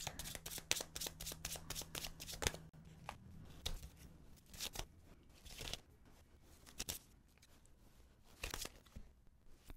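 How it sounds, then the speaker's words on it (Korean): Tarot cards are shuffled and drawn close by in a quiet room: rapid riffling bursts at the start, then scattered soft flicks, slides and taps as cards are laid down. "카드 뽑아보겠습니다"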